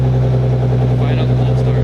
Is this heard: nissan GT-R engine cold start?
yes